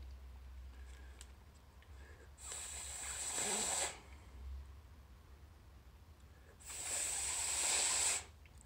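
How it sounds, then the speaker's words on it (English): Two sharp bursts of compressed air blasting grime out of the solenoid spring of a Breville BES860 espresso machine, each hissing jet lasting over a second, close and loud against a quiet room. "That's me just blowing the crap out of the spring."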